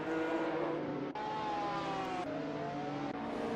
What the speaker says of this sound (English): the glorious sounds of old school race cars screaming their heads off